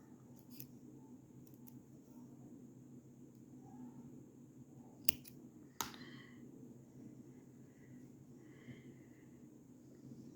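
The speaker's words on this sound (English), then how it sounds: "Now we'll again close it and cut the yarn." Scissors snip crochet yarn after a piece of a chrysanthemum scrunchie is finished, two sharp, quick cuts close by against a quiet room, with faint small handling sounds around them.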